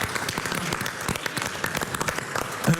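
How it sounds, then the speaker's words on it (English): Conference audience at a horse racing forum gives steady, moderately close applause, a continuous patter of many hands clapping throughout. "Why I think that deserves a particular round of applause"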